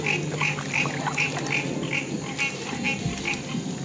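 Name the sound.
frogs croaking by the river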